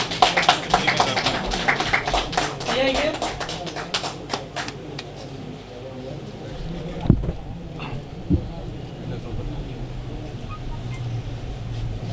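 Clapping from an audience at a Tamil astrology event breaks out loudly at first, then thins to scattered claps and fades out, giving way to a quieter murmuring room with a few thumps.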